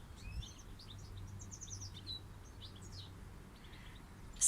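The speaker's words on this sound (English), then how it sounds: "I'm just listening to a goldfinch in this bush here" A goldfinch sings from inside a bush at a nature reserve, giving a quick series of light, twittering chirps at moderate distance over a soft outdoor hush.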